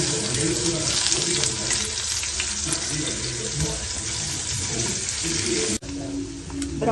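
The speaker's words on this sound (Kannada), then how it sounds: "ಸೊ ಇವಾಗ ಬಾಂಡಿಗೆ ಎಣ್ಣೆ ಹಾಕ್ಕೊಂಡು ಪನ್ನೀರ್ನ ಫ್ರೈ ಮಾಡ್ಕೊಳ್ಳೋಣ" Paneer frying in oil in a kadai, a loud dense hiss and crackle close by with brief stirring knocks, sounding almost like running water, and a short clunk near the end.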